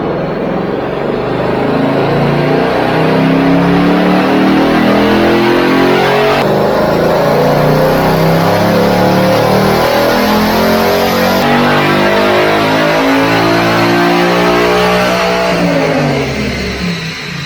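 A 2022 Ford Coyote V8 car revs hard on a dyno during a full pull, its loud engine note climbing steadily in pitch for the whole run with a few shifts and no voices.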